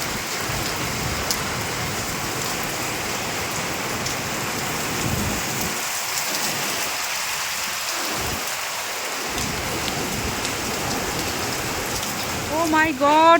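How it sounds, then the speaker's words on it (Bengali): Heavy rain lashes down in a windy hailstorm, a loud unbroken roar of drops on surfaces with low rumbles of thunder rolling through the middle, and a brief burst of noise near the end. "ঝড় বৃষ্টি শুরু হয়েছে, বৃষ্টি পড়ছে সাথে হাওয়া দিচ্ছে"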